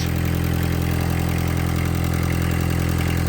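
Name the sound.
Volkswagen Caddy Mk1 engine idling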